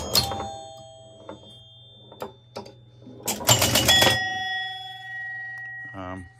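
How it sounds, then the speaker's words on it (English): Bell on a 1970 Gottlieb Batter Up pinball machine rings in several sharp metallic dings with ringing tails, mixed with clacks of the mechanism and a brief burst of ringing near the end. A low mains hum runs underneath. "We got the cool bell."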